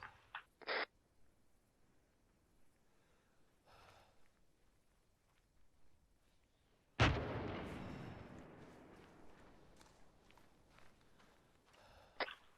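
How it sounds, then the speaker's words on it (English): In a video game, a sharp, loud artillery boom erupts mid-clip and rolls off into a long rumbling tail, preceded by a few faint, distant thuds and clicks. "heard a bang. It's artillery firing."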